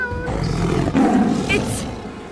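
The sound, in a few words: tiger roaring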